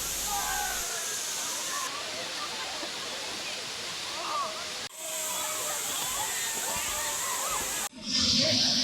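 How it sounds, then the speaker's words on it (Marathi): Savatkada waterfall in the Konkan region roars in a dense, steady wash of falling water during the monsoon, with voices chatting over the rush and a few abrupt cuts in level. "आम्ही आज सर्वजण कोल्हापूरहून इथं सवतकडा धबधब्याला व्हिजिट द्यायला आलो आहोत."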